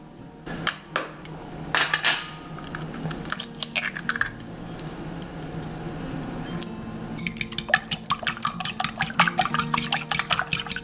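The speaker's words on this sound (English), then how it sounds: "I'm going to break the 3 eggs" Three eggs cracked against a bowl for herb bread batter with parsley, mint, coriander, chives and basil, sharp clicks and taps scattered irregularly, then a rapid burst of clattering near the end, close and fairly clear.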